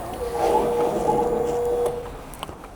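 A Honda CBR650R fuel pump primes inside the fuel tank of the motorcycle, a steady electric whine that hums for about two seconds and then stops, followed by a few small clicks.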